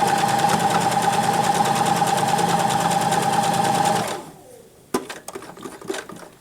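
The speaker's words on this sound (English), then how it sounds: "needle in, forward, backwards all the way to the edge, and forward all the way across to that first dot." Sewing machine stitching a duck pillow, a steady, loud, fast motor whir for about four seconds before stopping, followed by sharp clicks and handling noises as the fabric is moved.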